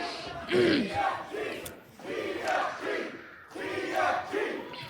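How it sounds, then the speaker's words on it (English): Fans at an All Class Independent Wrestling event cheer and shout in three swelling surges as a title ladder match ends, with loud, close rallying cries rising and falling over a steady roar. "The crowd here for ACIW rallying behind."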